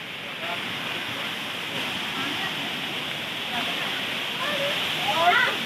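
The Dambul waterfall at Pomdhi, Odisha, roars as a steady, broad rush of falling water, loud and continuous and close, with faint voices in the background.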